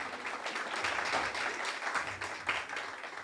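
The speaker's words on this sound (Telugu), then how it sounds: "చప్పట్లు కూడా దేవుని నామమున మహిమపరచండి." A church congregation applauding during a Friday worship service, steady dense clapping from many hands heard at moderate distance for the whole stretch.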